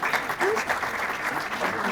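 Dense, steady applause from a studio audience, loud and close, filling the whole moment as a crowd answers a host's question by clapping, with a brief voice rising over the noise.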